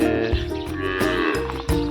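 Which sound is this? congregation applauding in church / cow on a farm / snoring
cow on a farm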